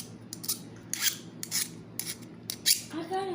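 Short scraping strokes of a file or deburring tool on the cut end of a wire hinge pin, about six quick rasps in an uneven rhythm, close and fairly quiet.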